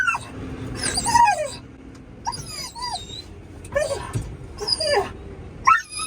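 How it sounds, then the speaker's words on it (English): A dog on a farm during wheat harvest gives repeated high whimpers and sharp yips in separate bursts, close and excited, with low machinery rumble behind. "Oh, calm down, dog, calm down"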